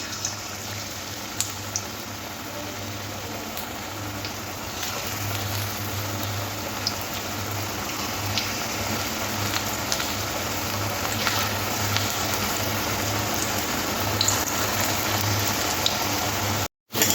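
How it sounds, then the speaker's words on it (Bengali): Potato pakoras fry in hot oil over medium-low heat, giving an even, continuous bubbling sizzle that holds steady for the whole stretch before cutting off abruptly at the end. "এবার তেলের মধ্যে একটা একটা করে ছেড়ে দেব আর গ্যাসটা মিডিয়াম টু লোতে রাখবো তাহলে পকোড়াটা মুচমুচে ভাজা হবে"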